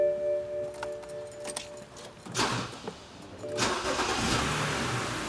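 A car engine cranks and catches, with a short burst of starter noise and a rising run-up that settles into a steady running hum, preceded by a faint jangle of keys near the start.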